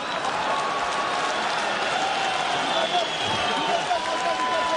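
Arena crowd at an MMA bout between Arsen Ubaidulaev and Yuri Saakyan roaring and cheering in a steady, dense wash of noise, with a commentator's voice running over it.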